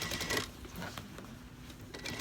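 A sewing machine stitches along the waist of a skirt, giving a soft, rapid mechanical patter in short bursts, faint and close, with pauses between runs.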